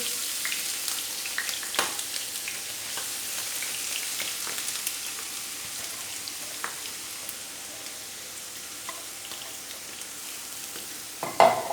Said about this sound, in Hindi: फ्राई पैन में मैंने घी डाल दिया। अब डालेंगे इसके अंदर, मैंने 2 छोटे साइज़ के प्याज लिए थे, उनको मैंने चॉप कर लिया।